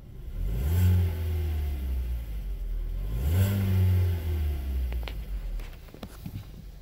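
A 2013 Kia Soul engine running after a restart, revving up twice in smooth rising and falling swells before settling back toward idle, heard up close, with a few faint clicks and knocks near the end.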